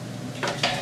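Spoons clinking against dishes while serving from a slow cooker, two quick close metallic clatters over a quiet kitchen background.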